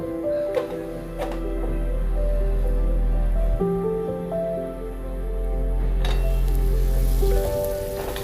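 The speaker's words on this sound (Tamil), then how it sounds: "தண்ணி கொதிச்சிருச்சு." Water boils in a covered pot on a home stove, giving a steady bubbling hiss beneath a low, sustained hum that shifts slightly in tone as it goes on.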